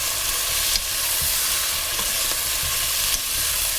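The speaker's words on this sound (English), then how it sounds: "saute a little bit." Cuttlefish sautéing on high heat in a pan for a Northern Italian fish stew, giving a steady, loud sizzle with occasional stirring scrapes throughout, no voices.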